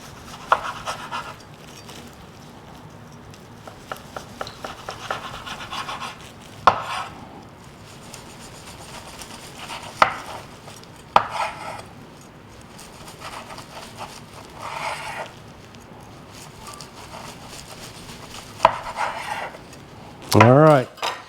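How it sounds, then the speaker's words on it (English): American Wagyu and USDA Prime tomahawk ribeye steaks are carved with a knife, giving soft slicing and rubbing strokes with occasional sharper knocks on a board, close and intermittent, with a louder clatter near the end. "it's time for the carving"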